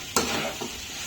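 Paneer cubes frying in a hot pan for butter paneer, giving a steady close sizzle with a sharp burst of spattering as the pieces hit the oil, then a softer stirring scrape.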